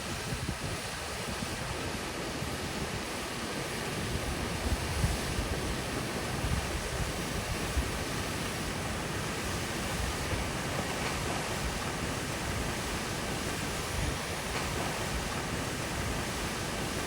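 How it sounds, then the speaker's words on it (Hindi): Mountain water stream in Kaghan Valley near Burawai, a steady, moderately faint rushing hiss of flowing water, continuous and even with no voices. "रूमी के बिल्कुल सामने ये जो वाटर स्ट्रीम आती है, यहाँ बहुत ज़्यादा पानी होता है।"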